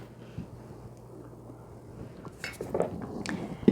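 Spoon or fork stirring active dry yeast in a bowl, with light scraping and clinks that grow busier and louder toward the end, ending on a sharper knock against the dish.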